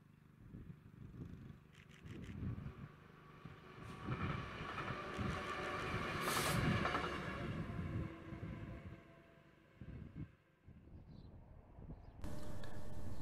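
A train passes on the line at Marholm, a faint, distant rumble that swells and fades over several seconds before a louder broadband rush at the end.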